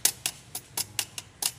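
Idling Mitsubishi Pajero 4D56T diesel with a broken clutch disc torsion spring, giving a steady train of sharp, close metallic ticks roughly four per second over a faint low engine drone, with no voices.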